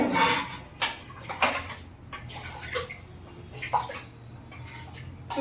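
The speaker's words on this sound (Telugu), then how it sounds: "ఫ్రెండ్స్ ఇక్కడైతే వాటర్ వేసేసుకుంటున్నాను." Water poured into a pot while cooking mushroom biryani in a home kitchen, heard as several short splashing bursts separated by quieter pauses, close by.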